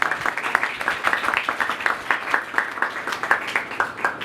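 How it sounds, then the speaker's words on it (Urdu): Sustained audience applause at a church sermon, a steady wash of many hands clapping with distinct sharp claps scattered throughout, moderately loud and continuous for the whole stretch. "آئے زوردار تالیاں بجائیں"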